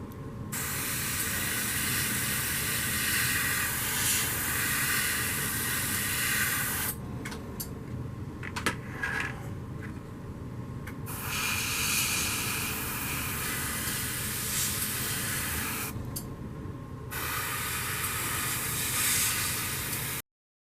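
Spray paint hisses steadily onto a 1:48 Revell P-40B Warhawk model kit in long, close, continuous bursts separated by brief pauses, with no talking.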